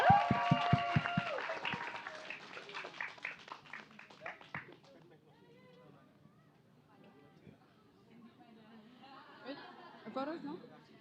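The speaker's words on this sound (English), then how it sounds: "Big round of applause." An audience at a storybook and storytelling competition awards claps loudly for competition winners for about five seconds, then the applause fades into quieter crowd chatter and voices.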